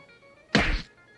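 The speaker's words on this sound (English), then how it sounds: "Man's a deep sleeper if it took multiple thumps to wake him up" A sleeping man is struck with a cluster of heavy thumps and smacks in a prison cell scene from the Blues Brothers film, one dense burst of impacts lasting about a third of a second, close and loud.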